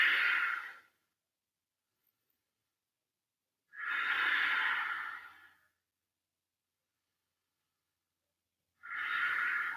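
Slow, deep breaths during a yoga flow session, three long airy inhales or exhales separated by silent gaps, close and soft with no talking.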